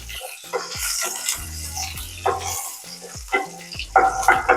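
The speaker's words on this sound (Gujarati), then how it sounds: "જીરું શેકાઈ જાય એટલે એમાં આપણે મરચાં એડ કરીશું" Green chilies dropped into roasting cumin in a hot pan on low gas, sizzling loudly in bursts with stirring scrapes and spatula knocks, close up and without talk.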